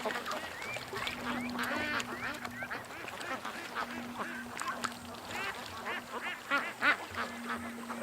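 A large flock of ducks keeps up overlapping quacks and honks nearby, a busy chorus over a faint steady hum.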